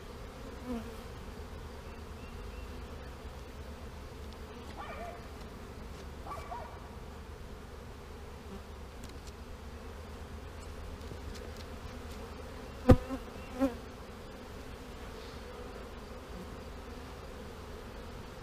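Honeybees hum in a low, steady drone from an opened hive during a Snelgrove board manipulation, faint and continuous with a couple of brief knocks near the end.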